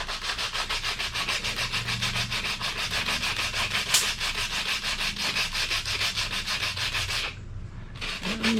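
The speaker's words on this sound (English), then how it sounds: "we'll sand on this side" Wood is sanded by hand in a shop building exterior walls, with quick, even back-and-forth strokes close by. A brief pause comes near the end before the rubbing resumes.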